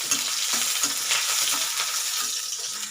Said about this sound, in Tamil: கொஞ்சம் கருவேப்பிலை, இதையும் நம்ம வதக்கலாம்.